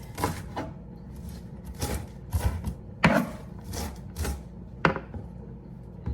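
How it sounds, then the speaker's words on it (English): A knife chops lettuce on a cutting board in a home kitchen, a series of close, sharp cuts arriving in uneven bursts with brief pauses between. "Now lettuce is cut up."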